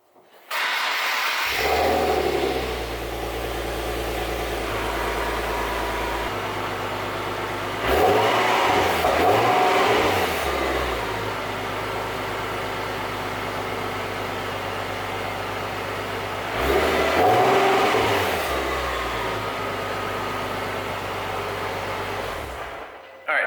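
Infiniti G37 engine cranks and fires up through an Invidia Q300 exhaust, settling into a steady deep idle with two brief blips of revving partway through, heard close and alone.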